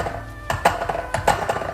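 A Prodigy S8 scooter with loose, untightened compression gives a brief run of light, uneven rattling clicks, heard up close.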